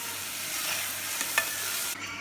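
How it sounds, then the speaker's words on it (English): Spices being stirred together in a hot pan, a steady close sizzle with a couple of brief scraping stirs over it and no talking. "And then we'll stir it all together"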